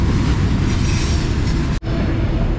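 A C&O freight train rolls past on the railroad, loud and close, a steady heavy rumble with wheel and rail noise that cuts off abruptly near the end.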